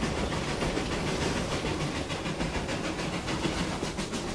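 Puffing Billy, a vintage 1920s-era steam train, runs along a rural line with a steady, close rolling rumble and rhythmic clatter under a constant hiss, with no voices.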